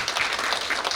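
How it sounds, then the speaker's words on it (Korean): An audience at a university-and-city forum applauds the first speaker with a brief, dense patter of many hands clapping, fairly loud and steady, with no talk over it. "박수로 부탁드리겠습니다"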